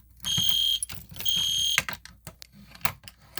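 An Est Genesis and Gentex Commander 3 fire alarm system under test blares two sustained high electronic tones about a second each, followed by rapid clicking and mechanical clatter.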